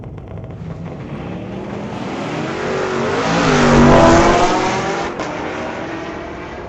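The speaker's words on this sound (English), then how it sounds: "'68 Grand Ford Torino, racing a 20 Camaro Chevrolet" A '68 Ford Torino and a Chevrolet Camaro ZL1 drag racing at a street-legal drag night, engines roaring loud and swelling to a peak as the cars pass, then fading away, no voices.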